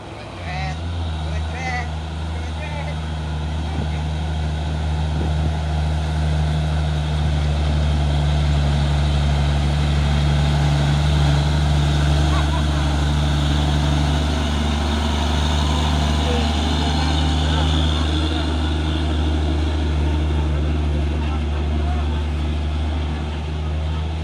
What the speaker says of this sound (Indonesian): Truk pusok oren pemain 4x2, slow tapi pasti saat melewati tanjakan Bukit Kodok.